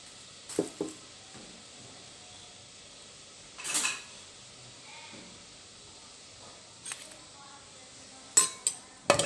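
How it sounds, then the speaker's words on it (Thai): Panang curry paste is stir-fried in coconut milk in a pan. The setting is quiet apart from scattered clinks and clatters of a utensil against the pan. "แล้วเราก็จะเอา เครื่องแกงพะแนงลงไปผัดนะคะ"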